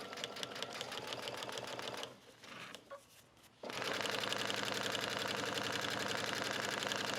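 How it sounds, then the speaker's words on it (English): A sewing machine stitches two layers of fabric, one with suede cut-outs, for an A-line skirt, running as a loud, steady rapid whir that drops off briefly in the middle and then resumes at full speed. "And as you're stitching, just hold the fabric together to make sure that one side isn't sliding more than the other."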